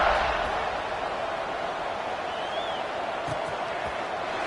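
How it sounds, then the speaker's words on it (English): A stadium crowd at a football game gives off a steady, loud, dense buzz of many voices right after a score, continuous throughout with no single voice standing out. "this crowd is buzzing after that last score"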